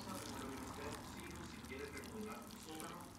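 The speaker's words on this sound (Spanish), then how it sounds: "Toda el agua caliente para hacer la gran sopa." Hot water pours steadily into a bowl for noodle soup, a continuous close liquid rush with faint gurgles.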